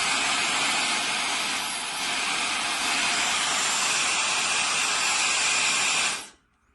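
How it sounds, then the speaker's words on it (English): A Dyson Supersonic hair dryer runs on maximum airflow, giving a loud, steady, airy whoosh with a bright hiss that holds for about six seconds before cutting off abruptly. "now let's try the Dyson on maximum airflow."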